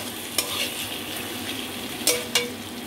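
Spice paste being stir-fried with potatoes in a pan, soft continuous sizzle with a few sharp spatula scrapes against the pan, close and alone without talk.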